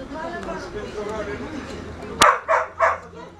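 A dog at a market gives three sharp, close barks in quick succession after a stretch of murmured talk and background chatter.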